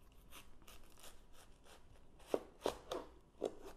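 A knife cuts down through a watermelon and slices it into inch-thick pieces, giving a few crisp, wet crunches spaced about a third of a second apart after a quiet stretch of faint rustling.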